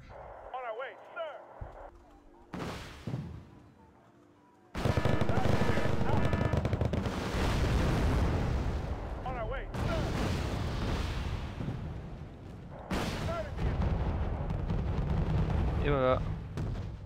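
Heavy booming cannon blasts from the game Wargame: Red Dragon in rapid bursts with crackling impacts, loud and sustained, interrupted by brief quieter gaps with game sounds.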